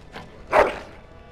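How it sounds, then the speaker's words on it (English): A dog in the video game Dragon Age gives a single short, close bark, preceded by a faint softer yip, with quiet background otherwise. "Bloody dog."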